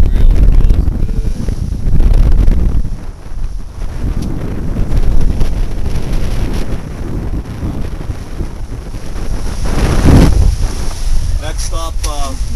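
Strong wind buffets the microphone aboard a sailboat in the British Virgin Islands, a loud continuous roar with gusting swells and water rushing beneath, and voices talking faintly in between.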